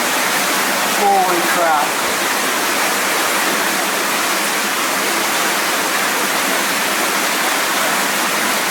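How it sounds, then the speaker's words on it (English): Water pours steadily down a tall rock face beside a quartz vein, a loud, constant rushing roar that fills the whole clip, with a brief exclamation from a voice near the start. "You can probably tell from the amount of water coming down that that goes up a long way."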